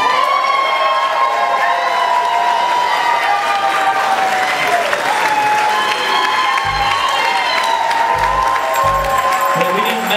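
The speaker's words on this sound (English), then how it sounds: "And now, ladies and gentlemen, a very warm round of applause for our bride and groom, Mr. and Mrs. Larry Nash." Wedding guests at a reception applaud and cheer loudly for the newly married bride and groom, a sustained wall of clapping with shouts and whoops over music that runs the whole time, and a few low thumps near the end.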